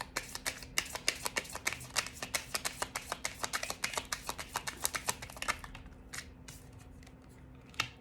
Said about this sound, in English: I'm going to pull a few more cards for clarity here.